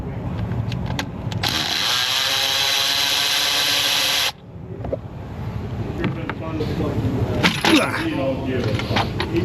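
Power tool or socket driver whirring steadily for several seconds while loosening bolts on a 2017 Dodge Ram 3.6 engine during an oil filter housing repair, then cutting off into quieter shop clatter.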